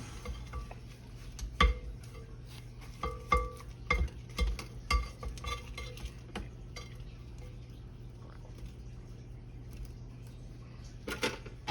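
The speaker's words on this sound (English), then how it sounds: "Scrape this down." A spatula scrapes down buttermilk chocolate cake batter in a mixing bowl, giving intermittent soft scraping and tapping strokes, clustered early and again near the end, over a steady low kitchen hum.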